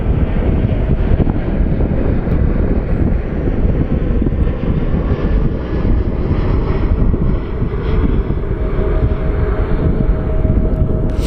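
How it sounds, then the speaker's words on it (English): A jet airliner roaring in to land at Sky Harbor International Airport in Phoenix, a loud, steady, broadband engine rumble sustained throughout, with wind buffeting the microphone. "anytime I hear another plane come in while I'm tracking"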